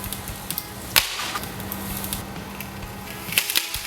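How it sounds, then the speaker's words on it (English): A fiberglass pole from a Lifesaver pool fence gives two sharp, splintering cracks as it breaks, one near the start and another near the end, with quieter rustling between them and no talking. "When the fiberglass pole breaks, it really shatters."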